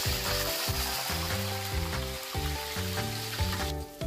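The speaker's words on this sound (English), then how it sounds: "Fry the tofu that has been marinated in hot oil." Marinated tofu fries in hot oil, giving a steady broadband sizzle that runs the whole time beneath a louder rhythmic backing of music.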